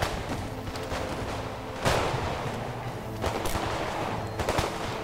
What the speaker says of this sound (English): These guys should be firing by platoon.